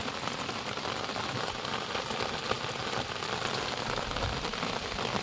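Steady, heavy rainfall hisses and patters densely on surfaces near a river fishing spot, a constant close wash of drops with a faint low rumble beneath and no talking.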